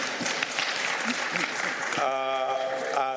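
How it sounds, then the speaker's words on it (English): An audience at a live Coop360º Innovations Award broadcast applauds, dense clapping filling the first two seconds before a voice begins speaking over the fading applause. "Let's have a round of applause for them, please."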